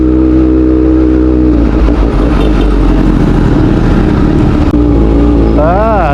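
A Kawasaki ZX-6R sportbike engine hums steadily while being ridden, its loud, droning note holding fairly constant and shifting in pitch briefly near the end.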